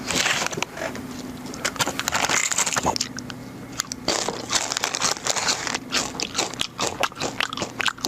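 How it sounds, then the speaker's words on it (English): Someone chews crunchy nacho cheese snacks close up, with rapid irregular crunches, bites and bag crinkling running continuously throughout. "could you at least close your mouth while you're chewing?"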